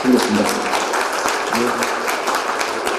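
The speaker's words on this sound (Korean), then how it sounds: "큰 박수로 한번 다시 한번" A seminar audience claps at the end of a Korean lecture on serious-accident law and smart construction. The applause is a continuous crackling wash that stays loud and steady throughout, with a voice briefly speaking over it.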